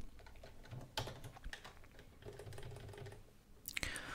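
Computer keys clatter in quick, uneven taps while text is corrected in a Word document, soft and close, with a brief sharper click near the end.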